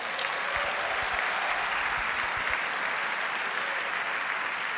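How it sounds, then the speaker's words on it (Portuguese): Church congregation at a worship service claps together in sustained, fairly soft applause, a uniform hiss of many hands continuing for about five seconds. "Você quer dar um aplauso a Jesus?"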